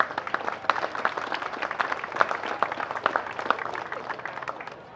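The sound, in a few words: audience applause for coaches and managers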